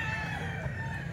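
A Hatch Gray gamecock rooster crows briefly nearby, a clear, loud sustained call over a low background hum.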